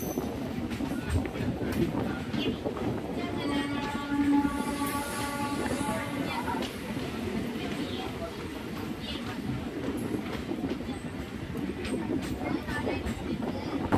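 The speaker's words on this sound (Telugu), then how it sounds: "10:10 మన ట్రైన్ గట్కేసర్లోని ప్లాట్ఫామ్ నెంబర్ 2కు చేరుకుంది" MEMU passenger train arriving at Ghatkesar station, a steady rumble of rolling wheels with a sustained squeal partway through, close and continuous throughout.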